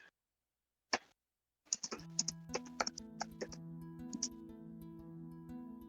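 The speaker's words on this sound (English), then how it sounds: "I'm typing this down, by the way." Fingers tap out a quick run of keystrokes on a computer keyboard after a couple of isolated clicks, the clatter close and fairly quiet with no voices.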